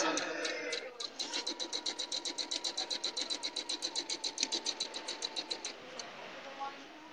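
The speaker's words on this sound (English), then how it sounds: "I'm stitching right on the line that I've marked, yes." A domestic sewing machine stitches quilt fabric along a marked line, a fast even run of rhythmic needle clatter that starts after a second and stops near the end, moderately loud and close, with a voice talking over the start and finish.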